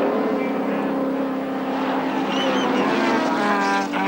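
Holden Commodore Group C touring cars race past at the 1980 Surfers Paradise 300, a loud continuous engine roar with rising and falling tones as the cars go by.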